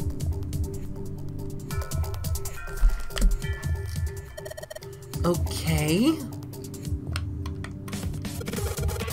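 Computer keyboard typing inside the video game Zero Escape 999 comes as a run of light, quick clicks mixed with game sound effects and a rising electronic tone, while a person speaks briefly.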